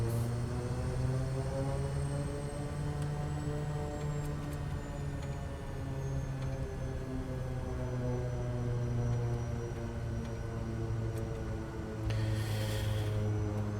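Steady drone of a Kodiak 100 turboprop at high idle on the runway before takeoff, a loud constant propeller hum with layered tones, and a brief airy hiss near the end.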